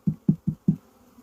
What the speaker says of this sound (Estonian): natuke kui käega nagu liikuda vähe, siis ikkagi lendavad tarust välja